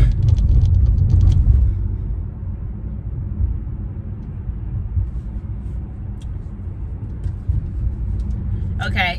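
A car rolls over a bumpy road, giving a continuous low rumble of tyres and engine from inside the cabin, heavier at the start, with a faint clatter near the end.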